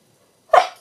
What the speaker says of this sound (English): Oh, excuse me, sneeze.